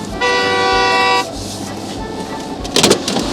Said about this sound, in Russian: Чё ты бибикаешь?